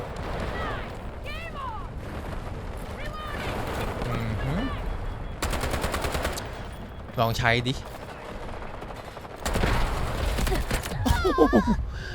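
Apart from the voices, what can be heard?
gunfire in the video game Delta Force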